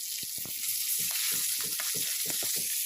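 Oily pond fish frying in hot oil for a village-style fish curry, a dense close-up sizzle with rapid popping bursts throughout, loud and continuous with no voices.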